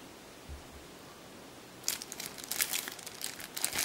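Crinkly plastic packaging of Christmas stickers being handled and crumpled, a burst of close rustling and crackling that starts after a quiet pause and continues unevenly to the end, with no talk.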